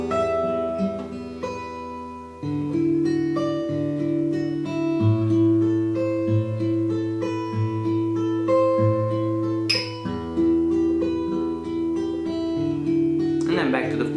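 A guitar plays a fingerpicked pattern that carries chords and a melody together, with steady plucked notes and shifting bass under a clear upper line, close and continuous without any voice.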